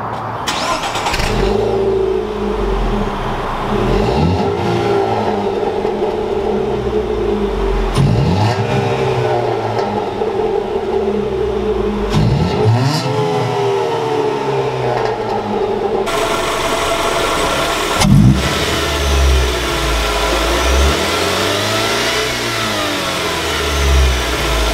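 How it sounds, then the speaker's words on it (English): A Dodge Dart engine with a cold air intake revs repeatedly, the exhaust note climbing and falling through several loud pulls and gear shifts, with steady engine drone between bursts. "why don't we go into a couple of exhaust notes here"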